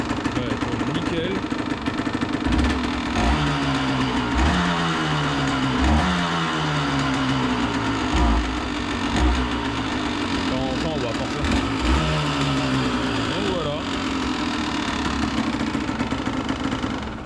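A Honda CRM motorcycle engine runs steadily just after starting, a close, continuous idle with slight rises in revs, while people talk over it.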